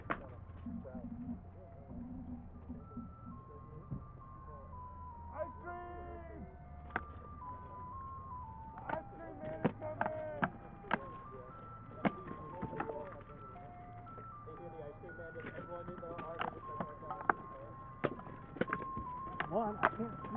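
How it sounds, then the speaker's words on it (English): Ice cream truck jingle playing a tinkling melody outdoors at a fighter practice, moderately faint, with people talking over it and scattered sharp knocks and clacks throughout. "I can't see the ice cream truck"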